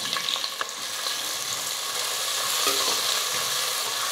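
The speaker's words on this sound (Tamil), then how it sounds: "வெங்காயம்லாம் வந்து நல்லா கலர் மாறி வரணும், அந்தளவுக்கு நல்லா வதக்கிக்கணும்" Onions sautéing in hot oil for Tamil tomato rice make a continuous, dense, close sizzle with occasional stirring clinks. Nobody speaks.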